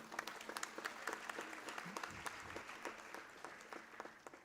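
An audience at the Jallosh 2020 event breaks into sustained applause, a dense patter of many hands clapping steadily throughout, heard somewhat distantly with a faint murmur of the crowd beneath.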